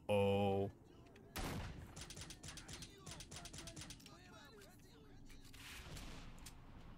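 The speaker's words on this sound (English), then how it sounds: "Why'd I hear like an explosion?" Bursts of rapid gunfire and a sharp explosive crack in the S.T.A.L.K.E.R.: Shadow of Chernobyl video game, fairly quiet and somewhat distant, with some talking at the start.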